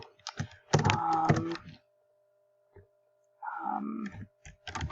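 Clattering keyboard typing comes in two close, busy bursts, the first near the start and the second in the last seconds, with a quiet pause between and a brief mid-pitched tone under the later burst.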